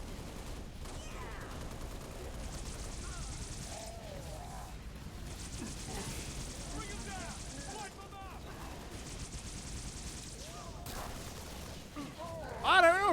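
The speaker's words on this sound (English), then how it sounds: "I'm taking fire." Scattered gunfire in the shooter Halo: Reach, steady rattling shots and distant bursts under game sounds and radio chatter, with a louder burst at the end.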